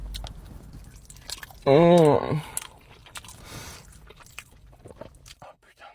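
Someone chews crispy-skinned barbecue brisket up close, with faint crunchy bites and mouth clicks around a brief appreciative hum.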